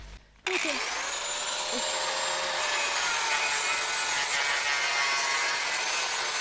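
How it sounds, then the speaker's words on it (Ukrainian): A loud, steady grinding whine of an angle grinder cutting through copper wire, starting abruptly and holding at full intensity throughout. "Болгаркою воно перерізається."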